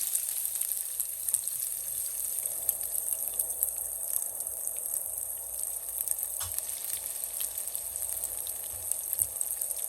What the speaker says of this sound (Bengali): তৈল দিয়ে দিচ্ছি এখন দিয়ে দিচ্ছি এই পেঁয়াজ কুচি